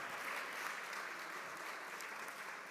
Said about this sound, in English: This is when you do a round of applause.